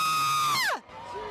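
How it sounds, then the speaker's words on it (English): A woman lets out a loud, sustained, high-pitched scream held for most of a second, then it drops sharply in pitch and breaks off, leaving crowd noise and a voice in the background. "Can I hear your best liberal scream?"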